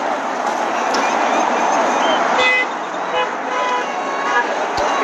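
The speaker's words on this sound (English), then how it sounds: "We're getting a lot of honks and support." Car horns honk from passing traffic at a roadside gathering outside a high school, short toots rising over steady road noise and nearby chatter, with people talking throughout.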